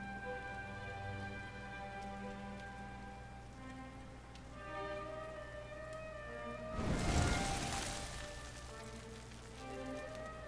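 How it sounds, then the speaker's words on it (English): Steady rain in the Dragon Quest video game, a continuous hiss of falling drops under a sustained musical drone, with a brief louder rushing swell partway through. "Looks like the rain's dying down"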